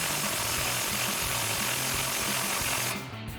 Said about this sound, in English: Now we can unloosen our bolt.